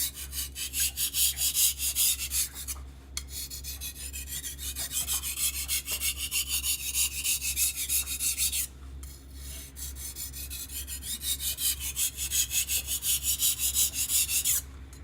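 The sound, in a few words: sharpening knife on rough sharpening stone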